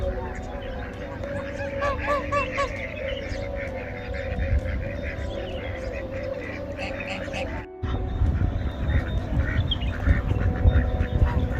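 Ducks and geese at Al Qudra lake in Dubai honk and quack repeatedly in an outdoor chorus, with a steady rumble of wind or ambient noise and some talking mixed in.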